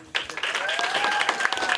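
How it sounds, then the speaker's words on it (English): Middle school students at Pin Oak Middle School burst into dense, steady applause that holds at full strength, with cheering woven through the clapping. "I want you to give a big round of applause to your fellow classmate"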